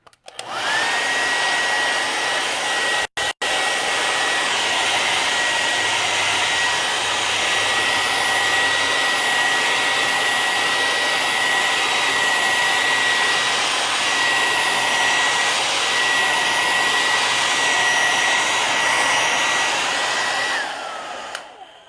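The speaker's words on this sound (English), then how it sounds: "Sometimes if I'm trying to speed the process up, I will actually blow dry these." A hair dryer blows steadily over acrylic paint, a loud, continuous whirring roar with a high whine that starts, holds for about twenty seconds with one brief cut, then shuts off.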